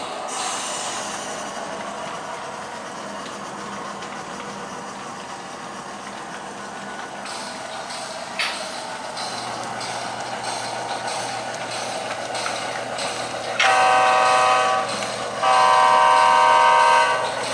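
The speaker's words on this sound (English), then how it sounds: "this train's over here making a racket" A model railroad train runs along the main line of a home layout, rumbling and clattering steadily up close before loud, sustained horn blasts sound twice near the end.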